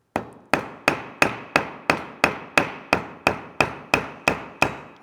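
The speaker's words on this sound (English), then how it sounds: "we're going to grab a flat face hammer here. And I'm actually going to hit down on this a little bit" Flat-face hammer striking a leather belt, about fourteen sharp evenly spaced blows in a steady rhythm, close and loud with quick decays and no talking.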